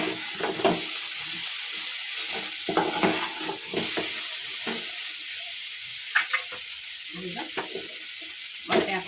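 Egg burji with fenugreek leaves sizzling and frying in a pan, a steady hiss broken by repeated scraping stir strokes, close and fairly loud with no talking.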